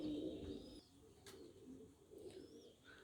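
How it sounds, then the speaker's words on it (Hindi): Chhap pair pigeons cooing softly, a few low coos over quiet background hiss with faint chirps, no talking. "तो कबूतर हमारे सामने है"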